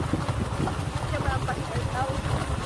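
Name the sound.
strong wind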